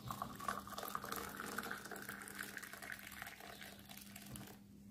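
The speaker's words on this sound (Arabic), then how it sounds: "هننزل عليه برده بكوبايه ميه كده اهوت، كوبايه ميه مغليه كده" Boiled water poured from a cup over coarse cumin in another cup, a continuous close splashing and gurgling pour that tapers off at the end, with no talking.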